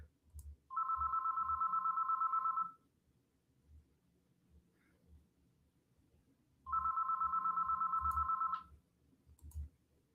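A telephone rings in two long electronic trill bursts several seconds apart, clear and moderately loud indoors over a quiet background with faint clicks and room noise.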